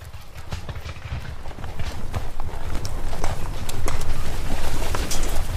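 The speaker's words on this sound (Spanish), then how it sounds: "Soldados a caballo entraron en el agua matándolos con los sables." Mounted soldiers' horses pound forward in a colonial India battle scene, a rapid, loud clatter of hooves with heavy low rumble that builds steadily and churns on.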